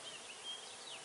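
A soft, steady honeybee buzz hums close by during package installation into a hive, with a few brief higher whines drifting in and out; no voices.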